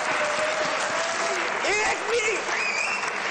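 Loud, dense applause from a studio audience on a cricket discussion show, a continuous roar of clapping with voices and cheers rising within it.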